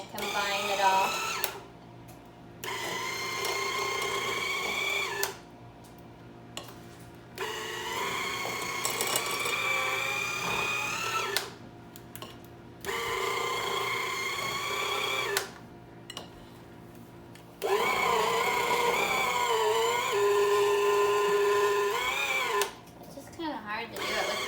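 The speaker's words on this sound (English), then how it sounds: "You can combine it on the mixer just on low again." An electric mixer on low speed combines vegan brownie batter. The motor whines in several separate runs of a few seconds each, loud and close, with short quiet pauses between them.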